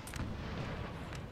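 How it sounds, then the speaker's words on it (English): Jaeger riflemen fire muskets in Napoleon Total War, a continuous rumbling battle bed with a few sharp distant cracks scattered through it, no voices. "the Jaegers have now opened fire, both on the horsemen and on the cannons"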